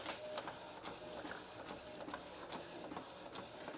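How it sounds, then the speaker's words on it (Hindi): An Epson inkjet printer with refilled ink runs a print job, its print head shuttling back and forth in steady, regular mechanical passes with ticking clicks, close and continuous with no talking. "और ये देखिए अभी प्रिंट अपना आ रहा है कंप्लीट।"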